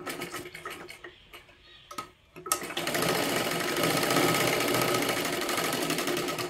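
A sewing machine stitches a katori blouse: a few faint ticks and pauses, then a steady, loud, rapid run of stitching that carries on to the end.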